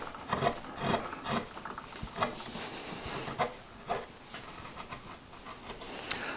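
A flat gouge shaves across wood, cutting the inside curve of a large carved letter with a series of short scraping strokes in an uneven rhythm, close and moderately loud.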